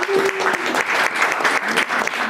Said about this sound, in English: Can you guys give me a round of applause?